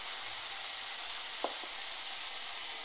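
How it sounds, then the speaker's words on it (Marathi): Masoor dal with coriander powder sizzles in a pan, a steady, faint frying hiss throughout with one brief soft tap partway through. No voices are heard. "आता याच्यामध्ये मी ते 1 चमचा धना पावडर टाकून घेते."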